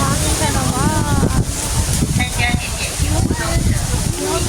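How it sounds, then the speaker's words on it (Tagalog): Wind blows outdoors at a theme park in Taoyuan City, Taiwan, a steady rushing buffet across the microphone throughout, with voices talking over it. "Mahangin ka naman."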